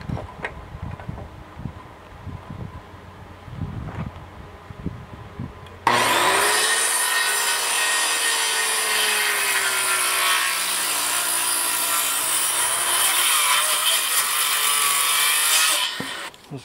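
Power saw cutting wood for up-cycled roof trusses: after a few quiet knocks, a loud, steady high whine starts suddenly, runs for about ten seconds, then cuts off.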